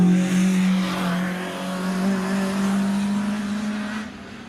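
Retro Rides hill climb cars power up the hill, a loud engine drone holding a steady pitch and rising slightly before fading near the end as the car moves away.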